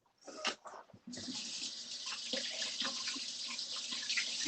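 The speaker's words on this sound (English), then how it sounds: "I'm going to put this in the sink and we're going to rinse this out." A kitchen tap runs into a sink to rinse out icing. A few brief splashes come first, then a steady, close rush of flowing water continues to the end.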